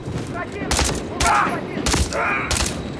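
Gunfire from the video game Call of Duty MW3: repeated loud bursts of shots in several volleys over a steady game background, with faint voices mixed in.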